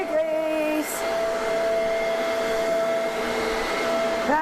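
A robot vacuum cleaner runs steadily at close range, a continuous whirring drone with a high tonal whine, while faint background sounds can be heard under it.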